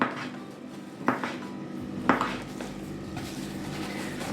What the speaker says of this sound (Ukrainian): Нарізаємо філеєчко. Нарізаємо ось так такими слайсиками.